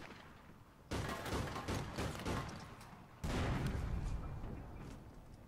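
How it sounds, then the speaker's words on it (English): Explosions in the shooter APB: Reloaded, two loud booming blasts a couple of seconds apart, each bursting suddenly and then rumbling and fading slowly, with no talk. "loads of explosions"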